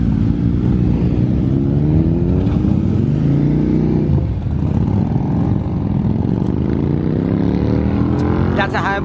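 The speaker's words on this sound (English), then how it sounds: "That's a Hayabusa right there." Suzuki Hayabusa superbike engine revving on a road blocked off for riders in Dubai, a loud, sustained near roar with rising and falling pitch and crowd voices mixed in.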